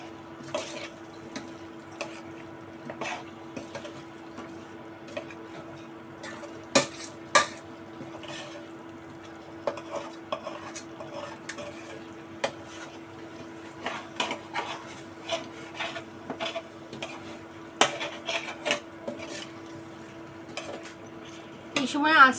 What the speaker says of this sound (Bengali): আগে আলুর সাথে কষিয়ে নেব।